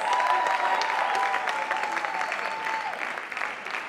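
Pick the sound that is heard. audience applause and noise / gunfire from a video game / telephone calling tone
audience applause and noise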